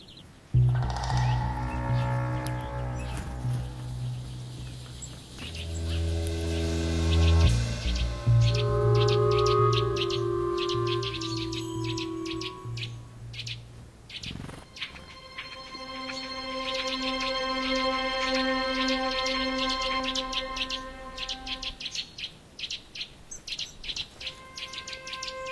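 Birds sing in a forest, with varied chirps, tweets and whistled phrases near and far, some dense overlapping calls and clear repeated notes continuing for a long stretch.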